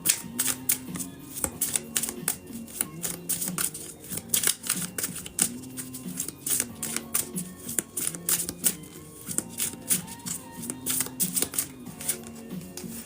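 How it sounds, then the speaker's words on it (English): Tarot cards being shuffled by hand in a steady stream of quick riffling flutters and soft slaps, repeated bursts close to the listener with no talking. "Shuffling for Lizzie at this time."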